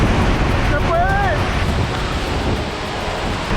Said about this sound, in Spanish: El río Popocatl se precipita completamente hacia el interior de la cueva, en forma de cascada